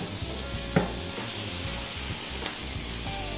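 Food sizzling on a hot grill, a steady close hiss and crackle with a few sharp pops and light scraping, loud and even throughout with no talk.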